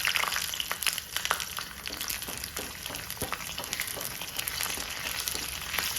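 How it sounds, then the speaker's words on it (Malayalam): Shallots and ginger sizzle and crackle in hot coconut oil for a Kerala-style chammanthi, a steady close frying hiss with dense, irregular pops throughout and no talking. "ഇഞ്ചി പകുതി മൂപ്പാകുമ്പോഴത്തേക്ക് നമുക്ക് എടുത്തു വെച്ചിരിക്കുന്ന ചുവന്നുള്ളി ഇട്ട് കൊടുക്കാം"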